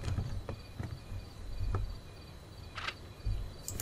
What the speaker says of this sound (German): Die Grille klingt fast wie ein Handyklingelton.